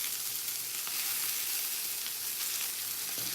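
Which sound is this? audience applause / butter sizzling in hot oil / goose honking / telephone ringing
butter sizzling in hot oil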